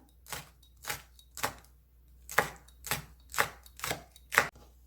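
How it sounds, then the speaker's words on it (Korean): A knife slicing chili and cheongyang peppers on a board, with about nine crisp, evenly spaced chopping thuds, close and clear with no talk. "고추 한 개, 청양고추 두개 송송 썰어줍니다."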